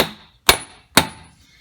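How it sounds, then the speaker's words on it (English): Two sharp metallic strikes land about half a second apart as a big hammer taps a nut threaded back onto a hub shaft of a Chevy Tahoe-type front hub bearing assembly. Each hit rings briefly and decays into quiet. "I put the nut back on and just take a big hammer"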